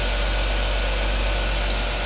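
A 2007 Ford Taurus with a 3-liter V6 engine idling, a steady low hum with a constant, even drone throughout, close and with no talk.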